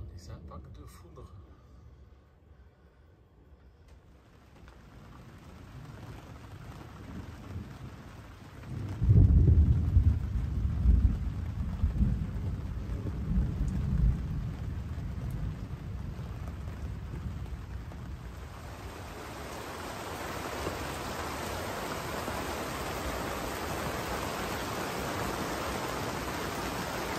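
Heavy thunderstorm on the Turkish coast near Karaburun, with a loud rumble of thunder building midway and lingering, then steady hissing rain taking over toward the end; the start is quiet and distant.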